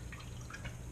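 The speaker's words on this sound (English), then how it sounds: "Cut a lemon in half. Squeeze all the juices out." Lemon juice dripping from a squeezed lemon half while preparing burbot as poor man's lobster, a faint, soft run of small drips close by with no talking.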